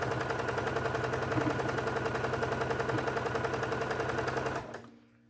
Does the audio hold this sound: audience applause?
no